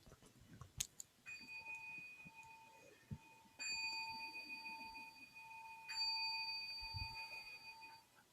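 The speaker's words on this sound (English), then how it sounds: "And Suki, thank you so much for ringing the bells for us" Clear ringing bells struck at a Zen temple service before closing Dharma verses: a few soft taps, then three separate resonant strikes spaced a few seconds apart, each leaving a long, pure sustained tone that hangs in a quiet room.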